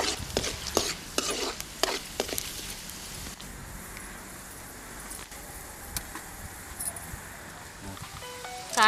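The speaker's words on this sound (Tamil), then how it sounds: "கடுகு பொரிஞ்சிருச்சு, கருவேப்பிலை போட்டுக்கலாம்." Mustard seeds and curry leaves fry and crackle in an oil pan at an outdoor village cooking spot, with a few sharp pops early on and a steady soft sizzle throughout.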